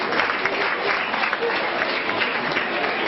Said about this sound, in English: Can you clap hands for Jesus?